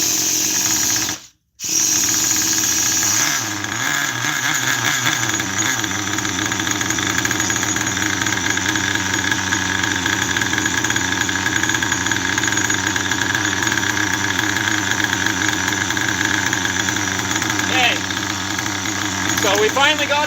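A large engine on a big red machine idles on its own with a steady, slightly low, rumbling drone close by, a brief cutout near the start, then continuous running with light mechanical knocking.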